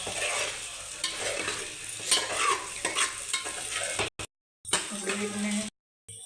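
Food sizzling in a hot pan while being stirred now and then, with steady frying crackle, scraping bursts and a couple of brief dropouts toward the end.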